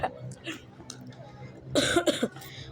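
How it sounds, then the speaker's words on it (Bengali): A person with a cold lets out a short burst of close, harsh coughing, two or three quick coughs after a few soft sounds. "আমার একটু ঠান্ডা লাগছে গাইস, এই জন্য একটু কাশি ডিস্টারবেন্স হবেই।"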